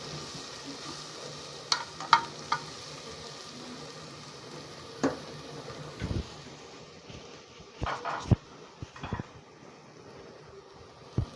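Food sautéing in a pan for molokhia and fatta, a soft continuous sizzle with occasional sharp clinks and stirring knocks scattered throughout, fairly quiet and without talk.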